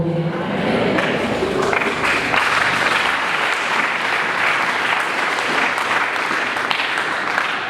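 A crowd applauds continuously, dense clapping filling the whole stretch at an even, lively level.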